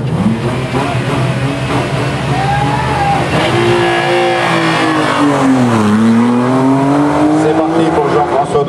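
A Renault 5 GT Turbo launches off the start line at a historic hill climb, its engine revving hard and rising in pitch through the gears, while an announcer talks over the loud, close roar.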